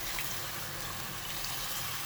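Water poured from a jug into a pot of meat browned with spices for palak gosht, a short steady rushing splash of liquid filling the pot, close and continuous.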